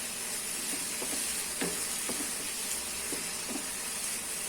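Two-cut small tomatoes sautéing in a pan for biryani, giving a steady hiss and sizzle with a few scattered clicks of a spoon, close and without talk.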